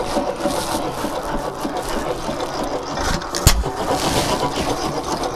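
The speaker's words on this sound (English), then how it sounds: "This is the Desjardins 5-horse engine. And yeah, 100 years old basically. And this thing will just run." A century-old Desjardins 5 hp hit-and-miss engine running, a continuous chugging mechanical churn with one sharp loud bang midway, heard fairly close.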